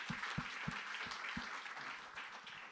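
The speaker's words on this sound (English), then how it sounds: "a round of applause" Audience applause at a policy conference leaders panel, a moderate, fairly distant wash of clapping with a few sharper individual claps standing out near the start.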